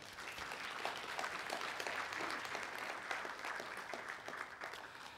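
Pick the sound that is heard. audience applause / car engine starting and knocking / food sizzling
audience applause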